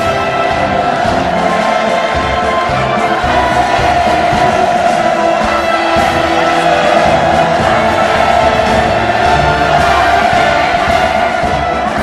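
Military families' crowd cheers enthusiastically as it enters the square during a Pyongyang mass demonstration marking Kim Il Sung's 110th birthday, a dense, continuous roar of many voices that stays loud throughout.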